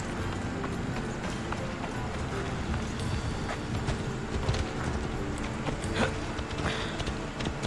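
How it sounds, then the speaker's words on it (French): Phobos, a horse in Assassin's Creed Odyssey, gallops with a rhythmic clip-clop of hooves over a busy bed of game ambience, with a voice talking over it at times. "là il y a le cheval qui arrive, Phobos"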